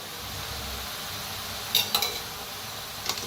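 Spoon stirring green chili and garlic paste into fresh peas in a pan, a low steady sizzle with a few sharp metallic clinks of spoon against the pot near the end.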